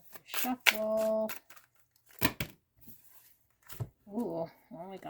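An animated lenticular tarot deck being shuffled, heard as a few short, crisp papery riffles between stretches of a person talking.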